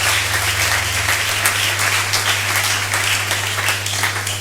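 A church congregation applauds and cheers to acclaim the Lord, dense steady clapping from a crowd filling the room, loud and continuous, with a low electrical hum running underneath.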